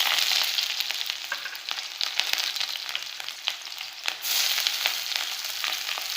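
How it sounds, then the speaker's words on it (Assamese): Onions fry in hot oil for Assamese-style pork with bamboo shoot, a close, continuous crackling sizzle with scattered pops and a brief swell partway through. "এতিয়া তেল গৰম হ'ল। প্ৰথমে মই পিঁয়াজ দিছোঁ"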